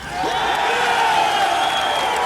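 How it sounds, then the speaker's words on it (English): A crowd that includes firefighters erupts into loud, sustained cheering and whoops in response to George W. Bush, a dense roar holding steady for a couple of seconds. "The crowd absolutely erupts."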